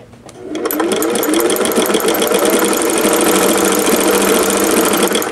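A Singer 401A sewing machine runs with a ruffler foot at a shorter stitch length, starting up and then holding a fast, loud, steady mechanical chatter of rapid needle strokes close to the microphone.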